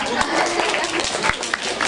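Steady, dense clapping from an audience applauding a student team after a mini-investor presentation, loud and continuous with crowd noise throughout.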